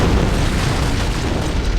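Antimatter charge detonating aboard a ship in a Halo: Combat Evolved cutscene, a loud sustained booming rumble that fills the whole moment with dense low roar.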